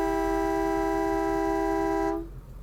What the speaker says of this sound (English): Oh, here's the air horn.